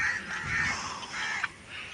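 A crow caws outdoors, a few harsh, rasping calls spread across two seconds at moderate distance, with no talking.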